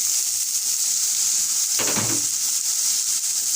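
Peppers tipped into a pan of softened, frying onions bring a burst of louder sizzling and crackle partway through, set over a steady bright hiss of hot oil with no talking.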